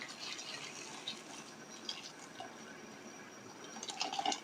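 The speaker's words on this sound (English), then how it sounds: "A good amount of hot water goes in." Hot water streams into a cooking pot for Bambara beans over an outdoor cooking fire, a soft continuous pour with light splashing that grows brighter and louder near the end, and no talking.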